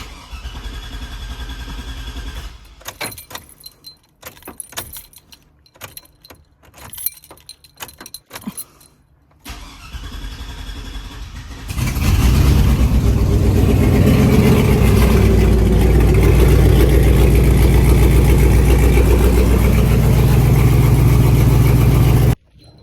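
A truck with a catalytic converter delete and freshly tacked exhaust pipes, its fuel regulator faulty; keys jangle and clatter first, then the engine fires up and idles loudly and roughly through the rest.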